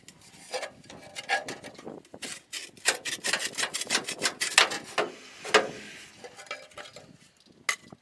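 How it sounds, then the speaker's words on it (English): Metal sleeve on the centre section of a Skoda Fabia Mk1 1.9 PD TDI exhaust being prised open, heard as irregular close scraping and rubbing bursts with sharp metallic ticks, no talking. "Now I've just got to prise open this sleeve and take that off, or slide it back down"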